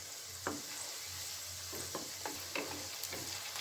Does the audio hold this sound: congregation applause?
no